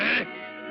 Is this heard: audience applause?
no